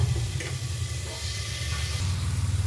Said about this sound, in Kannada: ಮಶ್ರೂಮ್ ಎಲ್ಲ ಚೆನ್ನಾಗಿ ಫ್ರೈ ಆಗಿದೆಯಲ್ಲ, ಇದು ಸ್ವಲ್ಪ ಫ್ರೈ ಮಾಡಿಕೊಂಡು ಇದಾಕ್ಕೊಬೇಕು